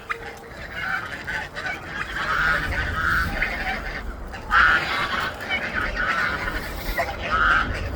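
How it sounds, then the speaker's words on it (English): A flock of geese honks loudly and repeatedly outdoors, calls overlapping in uneven bursts with a few sharper, nearer honks standing out against steady background noise. "Yep, we got more geese"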